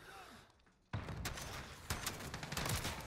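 Gunfire in a Call of Duty video game: after a quiet moment, sharp shots break out and keep going as a scattered volley with a few harder cracks, fairly quiet overall, with talk faintly under it.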